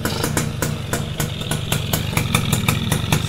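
A small two-stroke motorcycle engine idles close by, a steady low rumble with rapid ticking clatter and sharp periodic pops.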